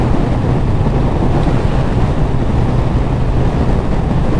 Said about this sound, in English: Yep, a lot of wind blast.